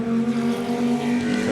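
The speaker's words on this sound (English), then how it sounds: "you see, like I say, that Dodge Viper" A Dodge Viper race car at Sebring drones with a steady, loud, harmonic engine roar that holds an even pitch throughout, with no voices.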